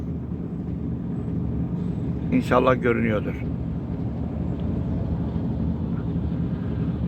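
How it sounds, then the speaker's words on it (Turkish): Two airplanes pass overhead near an excavation site in Sarıyer, Bolluca, making a steady, distant low rumble throughout, with someone speaking briefly over it. "Bakın arkadaşlar iki tane uçak gidiyor."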